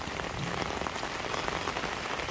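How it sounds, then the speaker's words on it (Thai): Midday rain over rice-planting country in Thailand, a dense, steady patter of drops on surfaces, moderately loud and continuous with scattered sharper splashes, no voices. "ฝนกระตกมาพอดี บรรยากาศดีดี"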